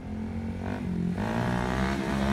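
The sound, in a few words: Honda Grom motorcycle riding in third gear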